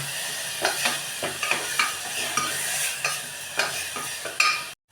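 Ground masala fries in oil while a spoon stirs it in repeated scraping strokes over a continuous sizzle, close and clear, with no talking.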